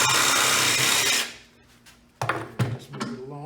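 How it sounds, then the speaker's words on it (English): A jigsaw cuts through material for a window strike prevention install, a loud, dense buzzing rasp for over a second before stopping, followed by close clunks and rattles as the work is handled. "Then we're just going to take a jigsaw, and we're just going to cut."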